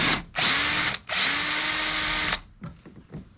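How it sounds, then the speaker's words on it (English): A power drill drills out rivets while building a DIY paddle holder, whining in two close bursts, a short one then a longer one, followed by a few faint clicks and handling sounds. "So I'm gonna use this hole and this hole. So, can you see me? Yep, so I'm gonna drill out this"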